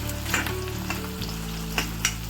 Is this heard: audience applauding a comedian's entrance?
no